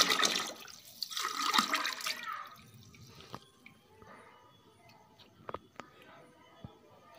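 A rushing pour of water into a cooking pot while making chicken biryani runs for about two seconds, then dies away into scattered drips and small clinks.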